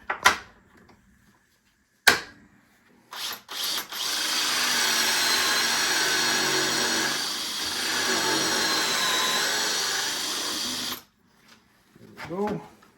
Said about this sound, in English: I'm going to go and drill and install the hinges